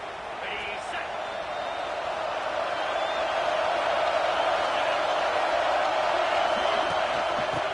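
Steady stadium crowd roar at a college football game in NCAA 26, a broad continuous wash of noise holding even throughout, with faint cheering swells and no clear individual voices.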